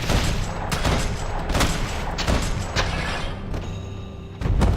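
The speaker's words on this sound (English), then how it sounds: "Weiter schießen." Rapid gunfire in the Max Payne 3 prologue, a dense run of sharp cracks and booms at an uneven rhythm, loud and close, with a heavy thud near the end.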